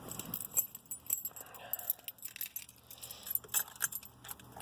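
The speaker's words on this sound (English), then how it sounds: "Get the keys." Car keys for a 1986 Ford Mustang GT jangle and clink close by in a string of quick metallic rattles, with a low steady hum underneath.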